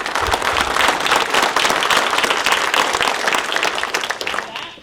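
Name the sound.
audience applause for panelists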